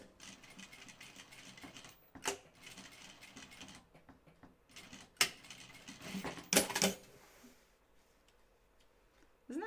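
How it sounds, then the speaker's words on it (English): Sewing machine backstitching on a denim jean skirt, short bursts of quick mechanical clattering separated by quiet pauses, close and fairly faint. "I think I might backstitch just a little more so the weight of the thread is even on both sides"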